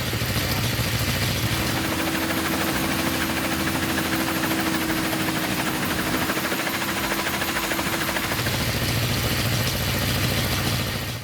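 A homemade helicopter built from plastic pipes and bamboo by a farmer's son in Kugdiya village, Bhavnagar district, Gujarat, drones loudly and steadily up close, its vibrating engine running continuously for the whole stretch.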